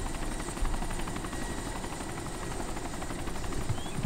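Helicopter in the video game DayZ, a steady, close rotor drone with a faint rhythmic chop that holds at an even level throughout, with no talk.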